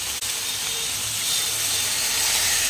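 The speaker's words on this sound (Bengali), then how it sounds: "এইবার জল অ্যাড করে দেবো" Water poured into a hot pan of pointed gourd fried in spice masala sets off a steady, close sizzling hiss that builds slightly and continues without talk.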